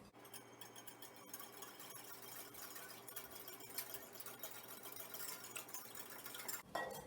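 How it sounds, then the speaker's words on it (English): Milk being whisked into butter in a bowl for an eggless carrot cake, a faint, fast continuous scraping and clinking of whisk against the bowl, steady throughout with a short pause near the end. "I'm going to give this a good whisk"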